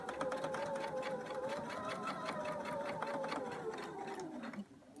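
A sewing machine back stitching along fabric trim for a scarf runs at a steady, fast mechanical whir close by, with rapid needle clatter throughout, then slows and stops near the end.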